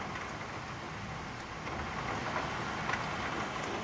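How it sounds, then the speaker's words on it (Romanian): Heavy rain with hail pours onto a flooded street during a strong storm: a dense, steady hiss of falling water with faint scattered impacts and no voices. "La cât de tare plouă."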